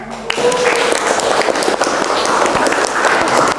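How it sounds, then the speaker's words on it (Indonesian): Children in an art classroom clap for their classmates, a loud, close, uneven burst of many small hands clapping, with scattered voices mixed in. "Silakan tepuk tangan buat anak-anak"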